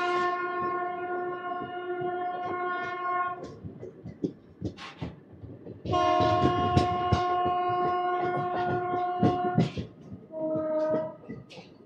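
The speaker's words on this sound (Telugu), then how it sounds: "మన ట్రైన్ అయితే స్టార్ట్ అయిపోయింది పేడన స్టేషన్ నుంచి" Machilipatnam Express (train 17220) pulling out of Pedana station, its horn blaring in long sustained blasts over rumbling, clattering wheels and carriage noise, loud and close.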